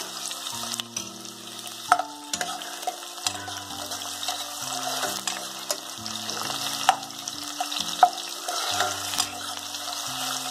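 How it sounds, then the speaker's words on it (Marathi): Bay leaf and finely chopped onion fry in hot oil, a soft steady sizzle under recurring low tonal hums and a few sharp clinks of a utensil, fairly quiet and close, with no voices. "तेल गरम झालं आहे, तेजपान घालते, कांदा बारीक कापून घेतला"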